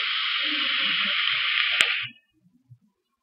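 Vapor is exhaled from a vape in a close, steady hiss that lasts about two seconds, ends with a small click and fades into near silence with faint rustles.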